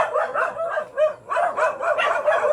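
A friendly dog met at a house doorway barks and yips in short repeated bursts across the whole stretch, fairly close and steady, with no one talking over it.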